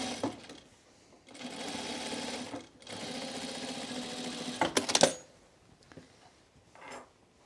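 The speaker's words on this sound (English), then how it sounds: "I think I'm going to add this double line of stitching on the yoke too" A sewing machine stitches a double line on a shirt yoke in two close, steady bursts of a few seconds each, then small clicks and handling sounds as it stops.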